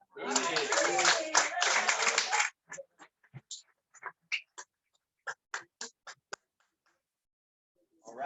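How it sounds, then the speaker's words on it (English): An audience at a poetry open mic applauds a poet with a couple of seconds of dense clapping, then a scattering of single, separate claps that trail off into quiet. "please be creatively applauding for Rudy G."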